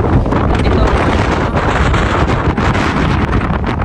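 Very strong storm wind near the sea in Greenland, loud continuous gusts battering the microphone throughout with a constant heavy roar, a voice faintly present beneath it.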